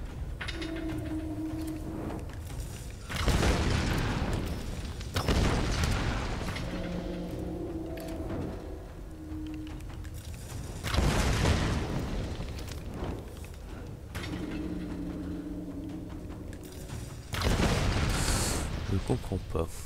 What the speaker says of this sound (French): Faut que j'explose ça